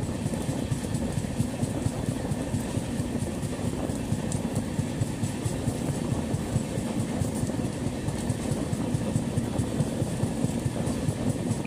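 The 12369 Kumbh Express passenger train running slowly between Howrah and Haridwar, a steady onboard rumble with an even clickety-clack beat from the wheels.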